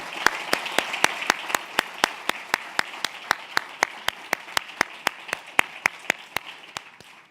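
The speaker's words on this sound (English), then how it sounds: "give them a big round of applause for the questions" An audience claps in steady applause for a Q&A panel on capstone projects and email management, sharp evenly spaced claps ringing out clearly for about seven seconds with no talking.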